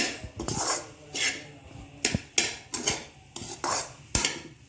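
A utensil scrapes and clinks against a pan over a medium flame, frying coconut kalakand, in a steady rhythm of repeated strokes, close up, with no voices.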